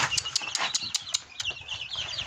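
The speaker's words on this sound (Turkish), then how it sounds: "Bugün yeni horoz aldım." A newly bought rooster and chicks cluck in a run of short, sharp, fairly near calls over about two seconds, with no talk.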